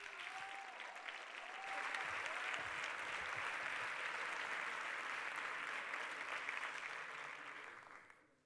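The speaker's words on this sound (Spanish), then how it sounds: "un fuerte aplauso para Pablo Izquierdo" Audience applause for a speaker at a FameLab 2017 science-communication semifinal in Barcelona, a dense, steady burst of clapping from a full hall that swells in after a moment, holds strongly for several seconds, then fades out.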